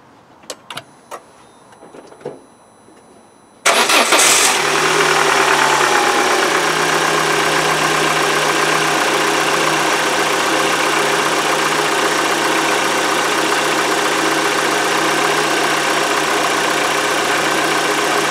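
A Peugeot 307 engine, just fitted with a new valve cover gasket, cranks and catches after a few faint clicks, then settles into a loud, steady close-up idle that runs on continuously.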